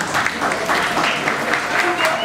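Wedding guests applauding at a celebration, a dense burst of clapping mixed with crowd voices and talk, fairly loud and close.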